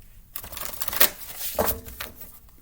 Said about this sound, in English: I pre-shuffled these, but I will give it 3 shuffles like I usually